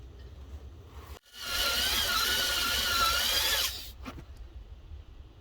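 A power drill bores out a stripped lug bolt on a BMW wheel, a steady high whining grind for about two and a half seconds that starts and stops abruptly, close and loud over faint background noise.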